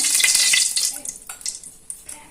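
Onion, garlic and ginger fry in a little oil, with close sizzling and stirring at first that thins into quieter scrapes and small crackles.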